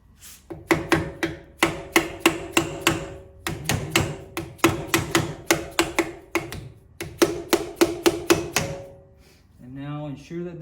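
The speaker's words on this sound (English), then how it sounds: "my blow hammer here" Sharp taps from a blow hammer seating parts on a VW Type 1 engine case, struck in quick rhythmic bursts of several blows with short pauses, close and loud, before a voice speaks at the end.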